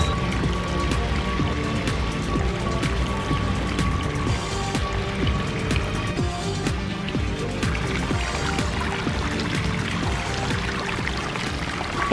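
A newly built backyard waterfall, with water pouring and splashing steadily into a pool, a close, continuous rushing patter.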